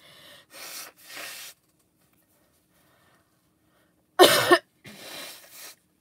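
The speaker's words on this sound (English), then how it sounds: "Yes, I need to blow my nose." A person blowing their nose in a few short bursts, two soft blows, a pause, then a sharp loud honk followed by a softer one, all close to the microphone.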